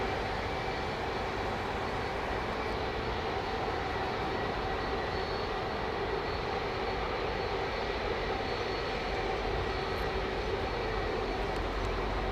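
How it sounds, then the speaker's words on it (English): A Boeing 787 Dreamliner departing from runway 09R gives a steady, broad jet engine roar that holds at an even level throughout, heard from a distance with no talk. "I'm just going to see if he gets a blast from that Dreamliner that's going out"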